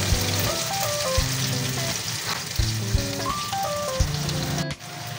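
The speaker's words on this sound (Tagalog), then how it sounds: "Again, crispy fried mixed veggies." Mixed vegetables deep-frying in a pan to a crisp, a steady close sizzle and crackle running throughout, with musical tones layered on top and no talking.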